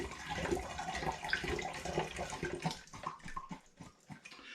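A second litre of juice is poured into a vessel for an IRN-BRU hard apple cider using the turbo cider method, giving a steady, splashing, gurgling liquid pour close by with no voices.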